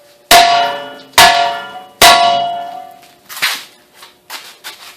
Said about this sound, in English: I prefer a BFH, big fucking hammer.